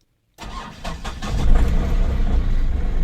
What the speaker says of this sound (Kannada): ಗಾಡಿ ಅಂತೂ ಚಲೋ ಮಾಡಿದ್ವಿ